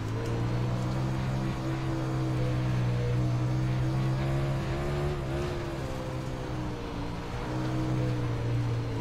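Late model race car engine in the iRacing game at Knoxville, a loud, steady engine drone with rich harmonics and slight pitch swells as the car runs, with no talk over it.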